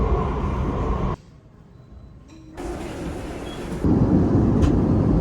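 A train travels across a bridge, a loud rumbling ride heard from inside with abrupt shifts in the roar as the surroundings change, dropping quiet for a moment before swelling again.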